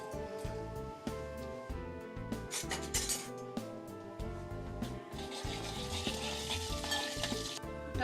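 Cumin and fenugreek seeds frying in hot oil make a continuous crackling sizzle, with occasional light utensil clinks, all under steady background music that stays louder than the frying.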